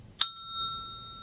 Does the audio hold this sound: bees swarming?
no